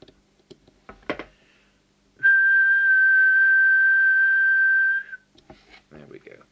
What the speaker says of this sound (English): Just go for the whistle test.